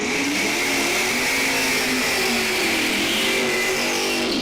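A drag-racing Camaro, the Hoover car, runs hard at Numidia Dragway: a loud, sustained engine roar that climbs in pitch across several seconds, with no voices over it.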